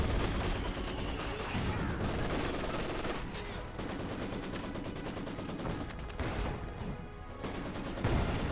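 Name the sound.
light artillery barrage in video game Company of Heroes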